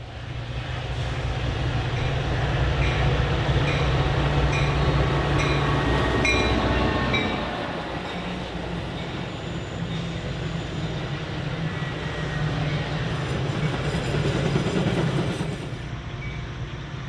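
A Metra train led by F40PHM-2 locomotive 195 in older blue and red paint departs west on BNSF's busy line, a loud diesel rumble and rolling rail noise that ease to a steadier, quieter clatter of passing cars.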